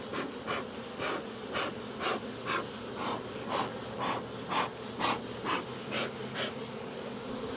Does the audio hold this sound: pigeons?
no